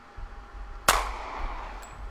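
One loud gunshot sound effect snaps out sharply, followed by a ringing echo that decays over roughly a second, with a faint metallic ping afterward.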